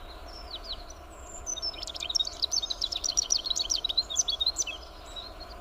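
A common tailorbird in a dense thicket gives a rapid run of sharp, high chirps, starting with a few isolated notes then a busy burst, fairly close over faint ambient hum.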